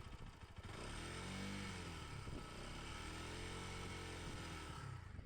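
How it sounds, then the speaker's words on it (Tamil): A 2025 Bajaj NS200 motorcycle engine is held at 5,000 rpm, a loud steady buzzing drone that wavers slightly in pitch throughout. "இப்போ வந்து இன்ஜின் நோட் எப்படி இருக்குன்னு பாருங்கள் ஒரு ஃபைவ் தௌசண்ட் ஆர்பிஎம் வச்சு காமிக்கிறேன்"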